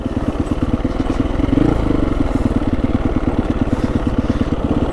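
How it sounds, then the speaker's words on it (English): An off-road touring motorcycle idles steadily close by, a continuous low, even chugging pulse with no voices. "Now the bike's idling lower."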